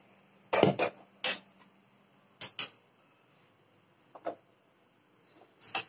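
A metal ladle clinks and clatters on a stovetop while a tempering of coconut oil is prepared for spinach dal curry, in several sharp, close knocks separated by quiet gaps.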